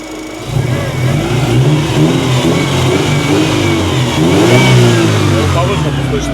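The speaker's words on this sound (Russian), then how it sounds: "по звуку идеальный мотор" An outboard boat motor runs steadily, loud and close, with a continuous throaty drone that swells as it revs higher partway through before settling.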